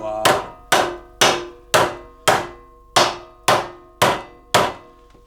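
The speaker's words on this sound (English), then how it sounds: "The other option is get this where I want and just kind of use my hammer." Nine evenly spaced, sharp metallic hammer blows ring out during rust repair on a Ford F350 rocker panel, each strike loud and close with a short ringing decay.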